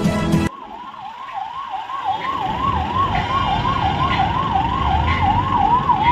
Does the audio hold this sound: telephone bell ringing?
no